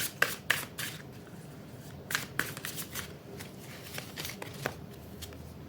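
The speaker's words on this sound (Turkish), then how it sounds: "şu hilekarlık kartına tarotlardan kart alalım tabii ki" A deck of tarot cards being shuffled by hand, with close, crisp riffling bursts and rubbing in an uneven rhythm, sharpest near the start and around the middle.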